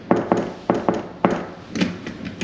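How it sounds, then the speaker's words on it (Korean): Knuckles knock on a hotel room door in Japan in short clusters of two or three sharp taps, fairly close, with faint room noise and no talking. "문을 두드려도 일어나질 않아요."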